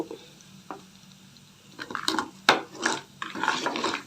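A spoon scrapes and knocks around a pan as turmeric and spices are stirred into a pumpkin dish, in a series of irregular clattering strokes with soft sizzling between, close and moderately loud.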